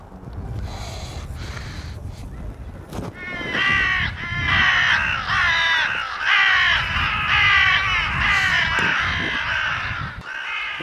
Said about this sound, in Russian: Для серых ворон их дальний родственник ворон черный далеко не самый желанный гость.